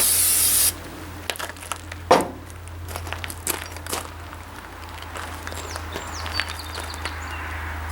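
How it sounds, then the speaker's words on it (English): A short hissing burst of silicone aerosol spray stands out once near the start, over quiet background noise with a few faint clicks and chirps. "I take a can of silicone and I spray it"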